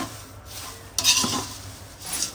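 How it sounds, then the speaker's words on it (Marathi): A spatula scrapes and stirs poha chivda with rock sugar in a pan, giving three short rasping strokes against the metal over a quiet background. "आपण त्याच्यामध्ये खडी साखर टाकून आपण त्याला परत परतून घेऊ"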